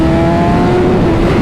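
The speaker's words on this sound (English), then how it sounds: "It makes a lot more power, runs a lot smoother, revs up a lot faster now." A Ducati Panigale V4 R or BMW M 1000 RR sport motorcycle engine revs loudly and steadily, a sustained high whine held close by for the whole moment.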